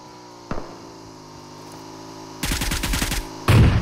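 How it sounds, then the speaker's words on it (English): Bursts of automatic gunfire in PUBG Mobile on the Miramar race track: one sharp shot, then a quick rattling burst of about eight rounds, followed by a louder close burst, all over a steady engine-like hum. "This guy is shooting us."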